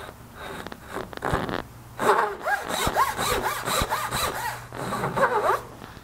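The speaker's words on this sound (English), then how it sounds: "cut the tenon shoulder mark on the back face down to the cheek line that we marked before" A saw cuts the tenon shoulder line on a piece of shoji wood: a few short strokes, then a quick run of about eight rhythmic rasping pushes and pulls, close and clear, with a last short burst.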